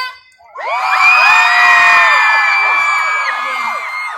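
A large concert crowd screams and cheers loudly and continuously, a dense wall of high-pitched shrieks that swells and holds, at a performance.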